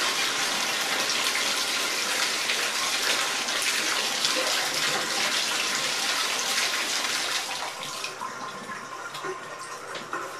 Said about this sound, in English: Finally, rinse everything out really well with some very warm water.